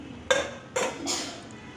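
A utensil knocks and scrapes in a pan as cooked noodles are tossed with tomato sauce for chicken noodles. Three distinct metallic clinks ring out close by, with no talking.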